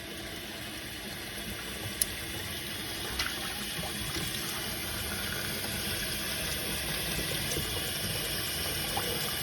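Water running and draining while a Pilot Custom 823 fountain pen is rinsed clean of ink, a faint, steady trickle and gush with a few small clicks, no voices.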